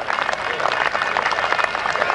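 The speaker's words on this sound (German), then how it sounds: "Applaus für alle drei." Crowd applause at a 1996 tractor pulling event in Sottrum, a dense, loud, steady burst of clapping from many spectators with no break.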